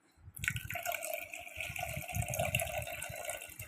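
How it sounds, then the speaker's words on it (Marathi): Water poured into a bowl of about one and a half cups of yogurt for making buttermilk, a steady close splashing trickle with a faint rattle, continuous for a few seconds. "मी त्या अंदाजे पाणी टाकते त्याच्यात"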